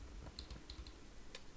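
Soft, sparse clicks of a computer keyboard tapped while playing the rhythm game osu!, a few light keystrokes heard close against a low background hum.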